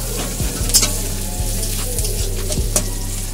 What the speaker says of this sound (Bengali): পেঁয়াজগুলো দেখতে পাচ্ছো এখানে আমরা ভালো করে ফ্রাই করে নিচ্ছি